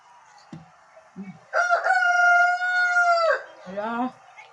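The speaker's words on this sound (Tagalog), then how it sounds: "Nagtilaok pa ang manok eh." A rooster crows once, loud and close, a long harmonic call with a falling tail, preceded by a few soft clucks and outdoors quiet, before breakfast of fish and vegetables is cooked.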